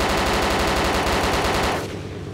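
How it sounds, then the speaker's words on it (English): Rapid automatic gunfire in the video game ARMA 2 DayZ, a loud dense stream of shots lasting nearly two seconds before cutting off into fading reverberation. "There's a guy shooting us with a DMR as well."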